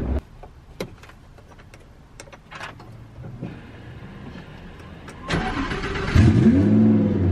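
A twin turbo Lamborghini Huracan engine starts up after some close clicks and rustling, then revs loudly with a deep, rising roar nearby.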